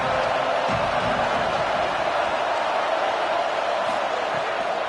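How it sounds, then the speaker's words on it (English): Stadium crowd roaring in a Madden football video game, a loud, dense and steady wall of cheering noise that persists without break. "This crowd knows when to bring it."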